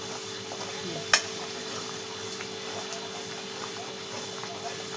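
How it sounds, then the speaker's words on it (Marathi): Masala spice mixture for an egg curry cooks in a pan with a steady soft sizzle and bubbling hiss, broken once by a single sharp click near the start. "आणि बघा आपला मसाला पण छान शिजत आहे"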